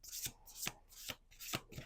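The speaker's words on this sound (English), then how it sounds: "Two more shuffles." A deck of playing cards being shuffled, four quick riffling bursts in steady rhythm, close and fairly quiet with no voices.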